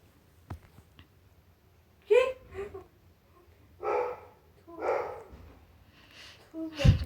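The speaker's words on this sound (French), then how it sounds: "Comme dans toutes les vidéos, mon chien est en train d'aboyer." A female dog barks in short, separated bursts indoors, a few loud yaps spaced a second or so apart with quieter gaps and faint background noises between them.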